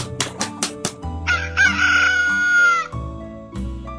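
A cartoon rooster crows once loudly and drawn-out after a few short clucks, close and clear, alone without talk.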